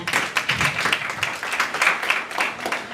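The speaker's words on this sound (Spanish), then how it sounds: "Fuertes aplausos, por favor" An audience at a university law conference claps, moderately loud with distinct individual hand strikes and uneven bursts rather than a smooth roar, no voices on top.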